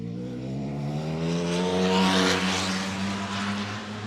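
A 2022 Ducati Panigale V4S motorcycle revving on a race track, its engine note climbing steadily to a loud peak before easing back, heard close and alone.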